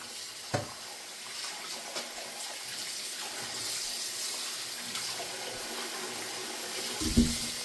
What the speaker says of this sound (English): Just let the water run over them for a good 3 to 5 minutes.